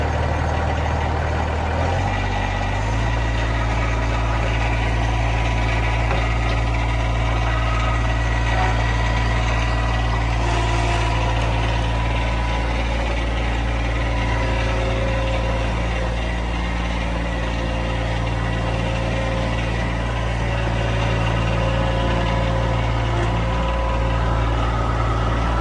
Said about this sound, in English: An old diesel.